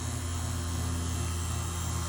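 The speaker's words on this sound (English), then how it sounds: "Pulling a vacuum now." A vacuum pump pulls a vacuum on an air-conditioning system during a compressor change, giving a steady low mechanical hum that drones on evenly and alone without pauses.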